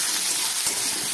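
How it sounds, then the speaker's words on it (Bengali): Onion and potato frying in hot oil in a wok (kadai) with five-spice tempering, giving a steady close hiss and sizzle throughout, with no talking. "দিলাম পেঁয়াজ আর আলু দিয়ে এবার একটু ভেজে নিচ্ছি।"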